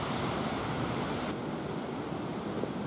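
Steady, loud rushing of a river pouring over a roadside waterfall in a park, a dense continuous roar filling the whole clip with no voices.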